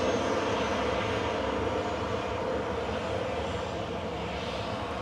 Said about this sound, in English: Here goes Sun Express to Dalaman